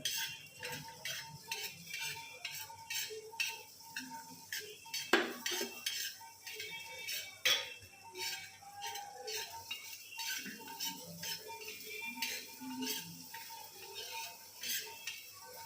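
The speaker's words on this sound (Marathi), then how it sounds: "कारळं भाजायचं" Niger seeds dry-roast in a pan while a metal spoon stirs and scrapes them, producing repeated close clinks and scraping strokes in an irregular rhythm over a faint low hiss.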